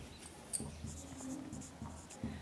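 A pen scratches on paper in short intermittent strokes, quiet and close, with small pauses between marks and no talking.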